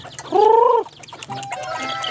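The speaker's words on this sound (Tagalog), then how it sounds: "At ito naman ang manok ng aking kapatid." A backyard chicken kept with farm animals gives a loud, close drawn-out cluck followed by softer clucking and chatter from nearby fowl.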